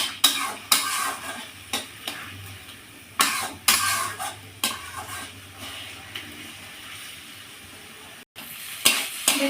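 Prawns cooking with banana flower in a pan are stirred with a spatula in sharp, repeated scraping strokes over a quiet background sizzle, the strokes irregular and close.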